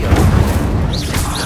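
An Incendio fire spell cast in Hogwarts Legacy gives a loud, close, rumbling whoosh-like boom that holds steady through its short length, with faint higher swishes near the end.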